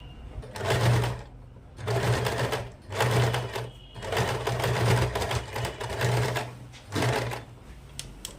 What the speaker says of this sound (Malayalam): ഇതിൻ്റെ നാല് ഭാഗവും അരികിലൂടെ ഒന്ന് സ്റ്റിച്ച് ചെയ്ത് എടുക്കണം